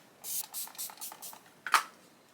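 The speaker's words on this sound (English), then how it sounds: "I'm going to take some of the XX Revolution Hydra Fix spray." Revolution Hydra Fix face mist sprayed in five quick fine-mist bursts in a rhythmic row, then one louder, sharper spritz after a short pause, all close and clear.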